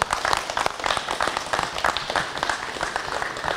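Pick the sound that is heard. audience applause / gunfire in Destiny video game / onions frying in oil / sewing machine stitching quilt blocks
audience applause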